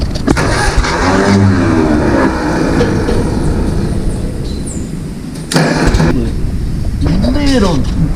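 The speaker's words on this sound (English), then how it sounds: "Carburetor's running out of gas." A vintage tractor engine runs loudly up close as its carburetor runs out of gas, the note rising and sagging unevenly with a sudden burst near the end, and a voice talks over it.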